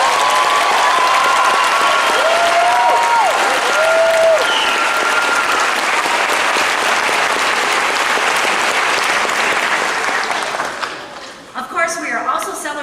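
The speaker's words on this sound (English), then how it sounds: "Join me in a round of applause." Graduation ceremony audience at Cal State Chico applauding master's graduates, a loud sustained wash of clapping that fades near the end as voices and brief sounds emerge.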